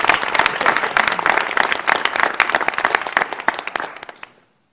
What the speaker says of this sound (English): let's give our four presenting Chancellors a round of applause